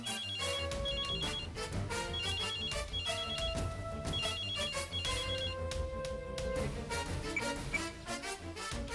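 A telephone rings repeatedly in a Tamil television drama, bright trilling bursts recurring in a steady rhythm over a busy background music bed, fairly loud and with no talking.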